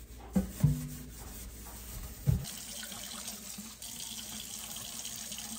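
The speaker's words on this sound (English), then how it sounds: "I'm gonna fill up the sink. One side is gonna be for washing strawberries, and the other side is gonna be washing our jars." Water runs steadily from a tap into a kitchen sink being filled for washing strawberries and canning jars, a continuous hiss with a few brief clunks near the start and no talk.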